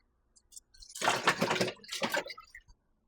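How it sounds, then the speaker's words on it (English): Cleaned seafood being washed with water and lime in a bowl, two short bursts of splashing and sloshing liquid with faint drips around them, close and moderately quiet. "We just need to wash them with lime now."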